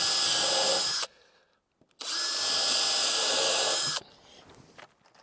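A power drill drives screws into wood outdoors at an off-grid build in Africa, two loud sustained whining bursts of about a second and two seconds, separated by a brief quiet gap.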